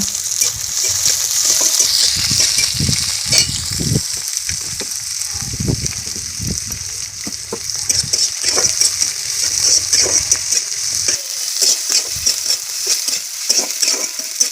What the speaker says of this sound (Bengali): এই দিয়ে দিলাম পেঁয়াজটা দেওয়ার পর এবার নেড়ে নেবো আমরা